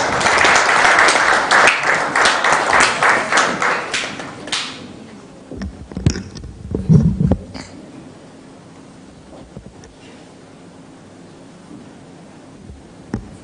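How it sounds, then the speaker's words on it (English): An audience at a ministerial youth-policy conference gives the chair a round of applause, loud and dense clapping for about five seconds before it thins out into scattered claps, rustling and a few short noises. "Let's give the chair a round of applause."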